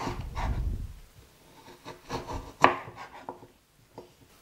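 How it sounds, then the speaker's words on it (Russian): A knife slices a slightly wormy, cored quince into thin pieces on a board, giving a few scattered soft cuts and scrapes with one sharper chop near the middle, close and fairly quiet. "И нарезаем на тонкие кусочки."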